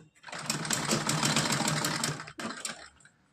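A sewing machine stitches a small Kanha ji doll dress in one fast, close whirring run, pausing briefly before a short final burst.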